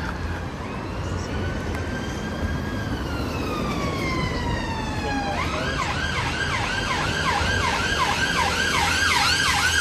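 An ambulance siren wails past on Holland Park Avenue in London, first a long sweeping tone, then switching to a rapid yelping pattern over traffic noise.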